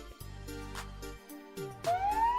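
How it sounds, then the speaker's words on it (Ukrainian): An ambulance siren starts near the end as a single rising wail, loud and close, after a short stretch of bright music. "швидка допомога їде, помічниця людям гарна, на колесах ця лікарня"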